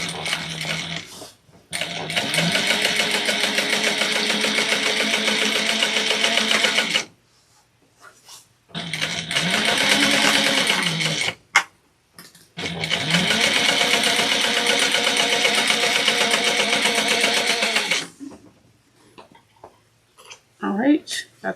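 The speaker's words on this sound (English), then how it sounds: "we're going to top stitch it again 1/8 of an inch away from the current stitching that we just made" A sewing machine runs in long, steady bursts while top stitching a convertible backpack, loud and close, stopping and restarting three times with short quiet gaps and small clicks between runs.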